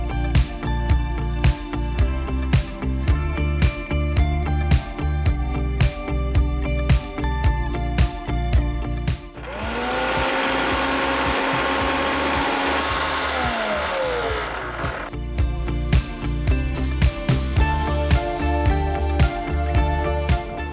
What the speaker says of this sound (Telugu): స్టార్ట్ చేసే ముందు నాకు కొంచెం ఇది మిక్సీ పట్టాలి. ఓకే, నేను మిక్సీ జార్ తీసుకున్నాను.